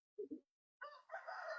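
At a Nellore poultry market, a rooster gives two short low notes, a brief pause, then a harsh, ragged crow, all faint and alone.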